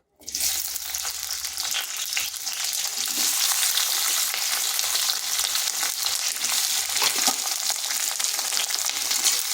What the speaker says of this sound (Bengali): এরপর দিয়ে দেবো কেটে রাখা পেঁয়াজগুলো।